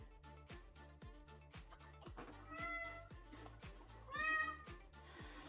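A cat meows and yowls repeatedly in the background, with drawn-out screaming cries rising over a steady rhythmic music bed, loudest near the end.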